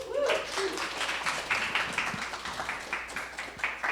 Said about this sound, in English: One more round of applause for Iliana.